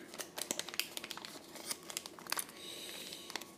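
Origami paper is folded and creased into a Zamboni model, making close, quiet crinkles and sharp paper snaps in an irregular run of short bursts with no speech.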